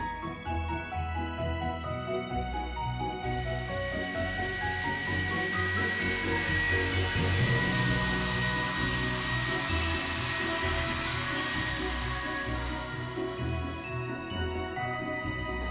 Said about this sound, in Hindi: बट हाँ ये सुखा देता है अच्छे से विंटर को